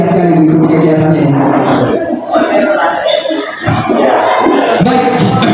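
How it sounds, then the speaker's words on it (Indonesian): An audience of teachers at a school training session reacts with loud, dense crowd noise of claps and voices that fills the whole stretch and dips only briefly. "Beri tepuk tangan kepada Bapak Ibu sekalian."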